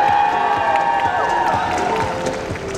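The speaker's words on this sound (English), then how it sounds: "Let's give Lolita Garden one last round of applause." A crowd applauds and cheers steadily with scattered whoops at a Lolita fashion show at Otakon, a sustained musical tone ringing underneath the clapping.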